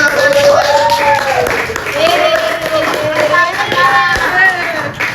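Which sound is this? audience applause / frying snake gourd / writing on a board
audience applause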